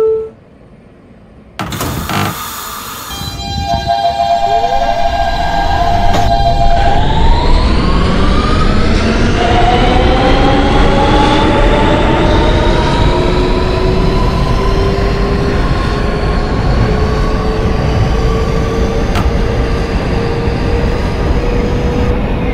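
R160B Siemens Q local subway train bound for Coney Island, simulated in OpenBVE: a few short tones, then a loud, rising electric motor whine as the train pulls away, settling into a steady running drone over track rumble.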